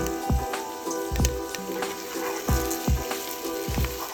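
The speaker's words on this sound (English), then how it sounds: "The shallots and the garlic have been sauteing with the thyme, a little bit of salt, and red pepper flakes for about 10 minutes now" Garlic and shallots sauté in oil with thyme, salt and red pepper flakes, a close, moderate sizzle punctuated by regular knocks and scrapes of a spoon stirring the pot.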